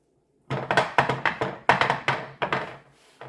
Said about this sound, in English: that's this glass going against this granite countertop